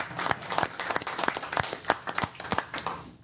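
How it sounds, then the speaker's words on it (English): A small group claps for a few seconds, scattered uneven hand claps in a modest indoor round of applause. "I think he deserves a nice round of applause."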